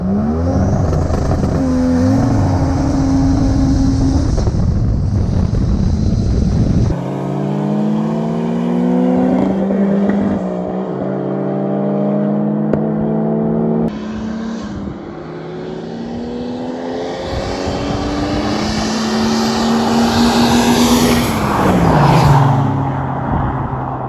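A boosted Mercedes-Benz car runs a street drag race at about 7 psi of boost, the engine revving hard through several rising gear pulls with shifts between them, loud and close throughout.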